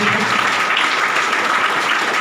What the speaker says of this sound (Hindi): मैं चाहता हूँ एक बार जोरदार ताली दीजिए।